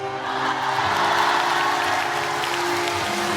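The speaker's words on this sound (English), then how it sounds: "just look at how the crowd cheers seeing down Kuroto" Crowd cheering and applauding in an episode of Kamen Rider Ex-Aid, a dense, steady roar of clapping and shouts with a sustained tone running underneath.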